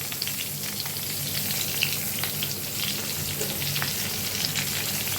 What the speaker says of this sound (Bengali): আলুগুলোকে হালকা করে ভেজে নিয়ে